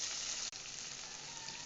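Onion sizzling as it fries in hot oil with urad dal, a steady bright crackle holding close and even throughout, with a brief dip early on.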